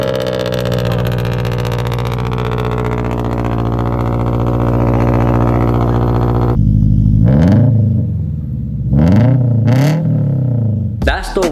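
A supercharged Subaru BRZ with catless headers, overpipe and a non-resonated front pipe drones loudly at steady revs, then snaps through several sharp, rising rev blips close by.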